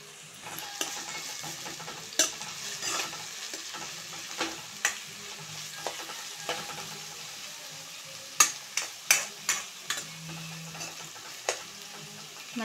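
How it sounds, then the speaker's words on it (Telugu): Onions and curry leaves crackle in hot oil while a spoon knocks repeatedly against the pan, soft steady sizzle with a run of distinct taps near the end. "ఇప్పుడు ఇందులో కొంచెం కరివేపాకు వేద్దాం."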